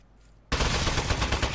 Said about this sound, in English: Presenting the Aperture Science Turret. Go on, take it for a spin.